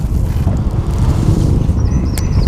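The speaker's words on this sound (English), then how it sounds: "We've got a pretty strong wind blowing here." Strong wind gusting by a river with an island chute, a constant loud low rush buffeting the microphone, close and unbroken, no voices.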